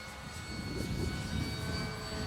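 An E-flite Pulse 15e electric radio-controlled model airplane flies overhead, its motor giving a faint, steady buzzing whine with a thin tonal hum that swells slightly and fades, heard outdoors without talk.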